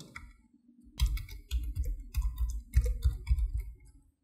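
Computer keyboard keys are typed in short clusters of crisp clicks after a quiet opening second, with the taps arriving in quick irregular runs up close.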